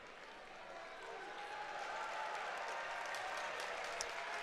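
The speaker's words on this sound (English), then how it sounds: "Applaud for the football teams." A crowd at a men's college basketball game between Michigan and Purdue Fort Wayne applauds faintly and steadily in the distance as the football team leaves the arena, the clapping swelling slightly over a few seconds.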